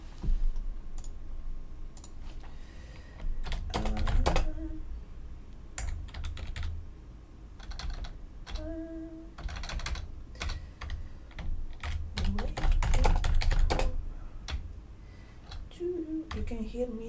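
Bursts of keyboard typing, quick clicking keystrokes near and fairly loud, with short pauses between runs and a voice speaking softly over parts.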